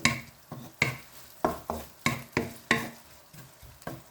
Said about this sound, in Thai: ผัดหอมหัวใหญ่ก่อน ผัดกับมีหัวแค่หลอดพี่น้อง แครอทใส่เนาะ